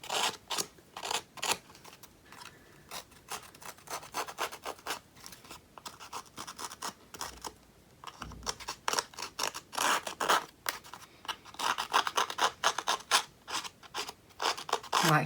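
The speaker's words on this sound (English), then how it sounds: "I'm going to use my tool to just distress the edge a bit. So the Tim Holtz distress tool." A Tim Holtz distress tool scrapes along a paper edge in rapid, rhythmic rasping strokes, close and crisp, with brief pauses between bursts and growing faster toward the end.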